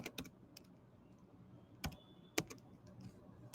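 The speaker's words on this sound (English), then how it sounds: "In this, we will type Einstein." Sparse, faint keystrokes on a computer keyboard, a handful of isolated clicks spaced irregularly in a quiet room.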